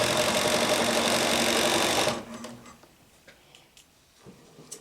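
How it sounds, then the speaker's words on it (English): A Bernina 740 sewing machine with an even feed foot runs steadily and loudly for about two seconds, stitching a 5/8 inch side seam on a blouse at stitch length 3.0, then stops, leaving quiet room sound and faint handling ticks. "This is my Bernina 740, and I love it because it has the even feed foot"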